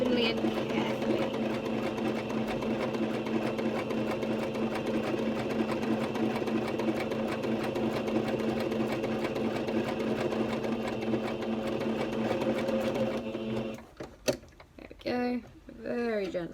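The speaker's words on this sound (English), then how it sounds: "So as we're stitching a curve, we're going nice and slowly." Nearby, a sewing machine hums in a long, steady run while stitching a curve on a shell top, slow and even, then stops near the end, followed by a few clicks and someone talking.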